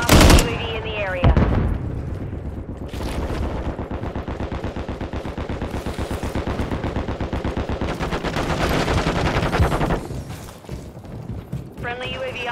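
Sustained automatic gunfire in Call of Duty Modern Warfare 3 multiplayer, rapid dense bursts of shots close and loud, running nearly continuously with a sharp blast at the start and brief callout voices mixed in.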